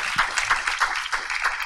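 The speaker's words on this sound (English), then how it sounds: "Let's give a round of applause to all these amazing speakers." Conference audience at an arbitration event in Bucharest applauding the speakers, a dense, steady wash of many hands clapping throughout.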